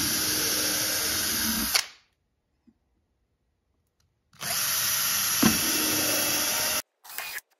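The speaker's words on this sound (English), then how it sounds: "And then I'll drill this other one and I'll do the same thing." Power drill driving a screw into a wooden shaper fence, heard up close as two loud sustained whirring runs separated by a quiet pause, with a brief final burst.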